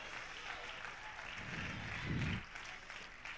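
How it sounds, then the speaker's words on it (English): A church congregation claps hands in a faint, distant burst of applause under a low murmur of room noise. The clapping swells briefly near the end, then fades. "Would you raise up and clap your hands?"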